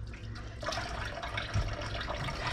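Hot water runs from a tap into a sink for washing dishes, a faint, steady splashing flow with a few brief thumps in the background.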